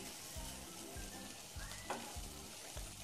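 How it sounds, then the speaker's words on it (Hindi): Chopped green chillies frying lightly in a little oil in a pan, a soft, steady sizzle heard up close while a utensil stirs and scrapes in a regular rhythm. "इसमें तो हम लोग कटी हुई हरी मिर्च डाल देंगे और हल्का सा इसे फ्राई होने देंगे।"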